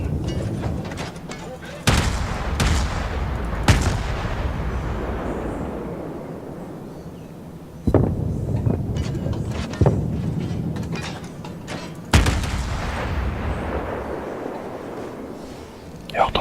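Naval artillery from battleships in the World of Warships video game, several loud booming salvos a few seconds apart, each rolling off slowly, while people talk over the gameplay.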